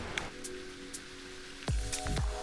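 Rain falling on a cold road during a bike ride, a soft steady patter of drops with a few sharp splashes and whooshes of passing tyres on the wet surface near the end.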